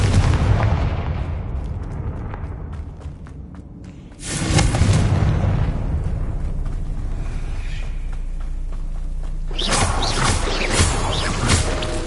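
Confringo fire spell explosions in Hogwarts Legacy, loud booming blasts that burst suddenly and then leave a sustained roaring rumble, with a second burst near the end, and no talking.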